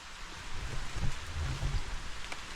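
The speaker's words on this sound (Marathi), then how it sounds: "पाऊस आलेला आहे" Steady rain hisses broadly and evenly, with a few deeper low rumbles underneath, continuing without pause.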